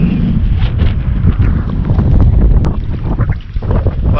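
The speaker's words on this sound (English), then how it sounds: "It's been a breezy day." Strong gusts buffeting a Hobie kayak on saltwater off Gasparilla, Florida, a loud, constant roaring rumble of wind over the microphone mixed with water slapping the hull.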